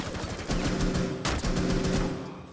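Rapid automatic gunfire in Rainbow Six: Siege strikes a shield, a dense, loud burst of shots that pauses briefly, then resumes before tapering off, with no talk.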